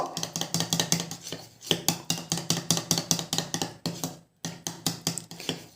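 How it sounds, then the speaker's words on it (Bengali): A utensil stirs rice water and homemade coconut oil together in a bowl, making rapid, regular clinks and scrapes against the bowl's side, close and fairly loud, with one short pause near the end and no talking. "তারপরে এই দুটো ভালো করে মিশিয়ে নেব।"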